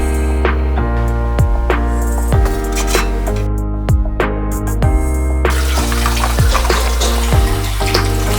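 Water runs steadily from a kitchen sink tap while a pot is cleaned, a continuous close stream broken by knocks and clinks of cookware.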